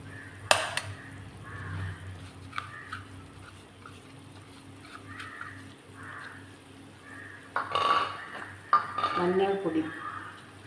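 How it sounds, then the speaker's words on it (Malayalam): Spices being sautéed with potatoes in a pan: sparse metallic clinks and scrapes from stirring against the pan, with a brief busier clatter near the end over a quiet background. "പച്ച മണം മാറുന്നവരെ വഴറ്റി കൊടുക്കുക."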